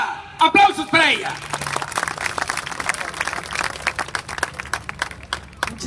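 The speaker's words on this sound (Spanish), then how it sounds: "¡Aplausos para ella!" Applause at a political campaign rally in Pinotepa Nacional, Mexico: a crowd claps densely and steadily, with a few short shouts and whistles at the start, fairly loud and close.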